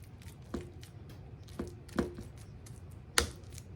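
Bare hands squish and slap ground meat for meatloaf in a bowl, with a few soft, wet thumps spaced irregularly over a quiet, close background.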